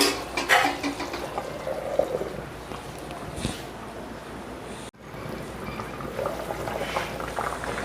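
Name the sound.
water boiling in cooking pot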